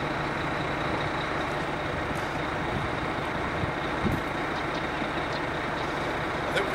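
A homemade 40 kVA off-grid generator set runs nearby with a loud, steady, rumbling engine drone that holds even throughout.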